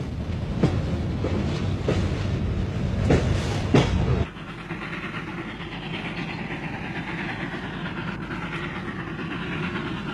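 A train rumbles along the rails with rhythmic clacks and thumps, loud at first, then settling into a steadier, softer rolling hum.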